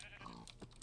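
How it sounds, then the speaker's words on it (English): Sheep bleating in the Minecraft video game, a short, fairly faint bleat heard alone with no talking. "I'm attacking some sheep"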